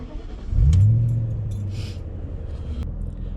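BMW 535i E39 with a V8 engine starting up, a loud low surge settling into a steady idle rumble close by, with small clicks and key jangles on top.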